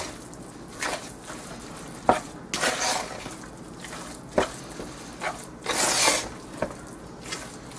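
A collard and meat mixture seasoned with kosher salt being stirred in a pot, giving intermittent scraping and wet swishing strokes with short sharp clinks, close and fairly soft, with no voices.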